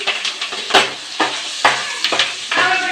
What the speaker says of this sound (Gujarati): હિંગને હલાવી પછી એમાં આપણે એડ કરશું લીલું લસણ